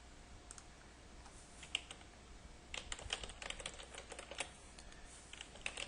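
A password is typed on a computer keyboard, quiet close-up clicks in irregular bursts, sparse at first and then a quicker flurry of keystrokes, with no voices.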